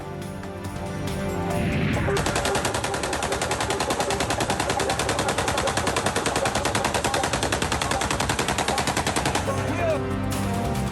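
Aerial gunfire at a wedding celebration in Pindi Bhattian: a loud, sustained stream of rapid automatic shots rattles on for about seven seconds before cutting off.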